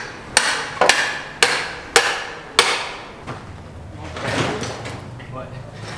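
A hammer is knocked against hard surfaces while grabbing parts from a parts bike, five sharp, loud clanks about half a second apart, followed by quieter rummaging and handling noises, with voices nearby.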